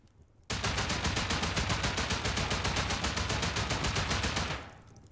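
Rapid, steady automatic fire from a silenced gun in the survival game Rust, an unbroken stream of muffled shots lasting about four seconds before tapering off, with no voices.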